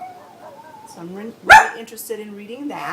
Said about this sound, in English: I'm so sorry my dogs are so barky today.